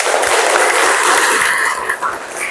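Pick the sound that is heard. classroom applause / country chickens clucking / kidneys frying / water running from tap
classroom applause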